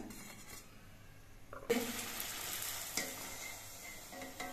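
Potato-spiced luchi frying in extra hot oil in a wok, a soft crackling sizzle that jumps louder partway through as dough meets the oil, then settles into steady bubbling hiss.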